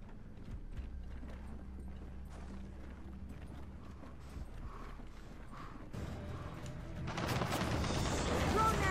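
Turret gunfire in Gears of War 4 builds over the last couple of seconds into a loud, dense, continuous roar, following a stretch of rumbling game ambience with faint voices talking.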